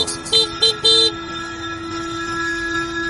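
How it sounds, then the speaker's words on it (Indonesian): Three short honks sound in quick succession over a steady engine hum, then the drone continues alone. "Refleks aku memencet klakson."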